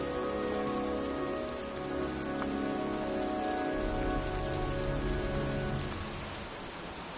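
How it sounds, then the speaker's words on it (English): Steady rain falls outdoors in the video game Heavy Rain, a dense, even hiss of drops on surfaces that runs throughout, with faint tonal game ambience underneath and no talking. "It's cold. It's raining. I'm standing outside getting soaked."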